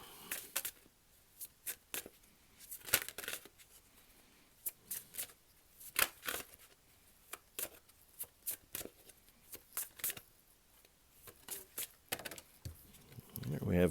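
Oracle cards from a Wisdom of the Buddha deck shuffled and drawn by hand, a series of crisp riffling bursts and soft flicks at an irregular pace, fairly quiet.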